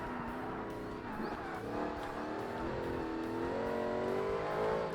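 An 800-horsepower race car in Forza Motorsport accelerates hard, its engine note climbing and wavering through the gears, with faint tire squeal, loud and continuous for the whole stretch.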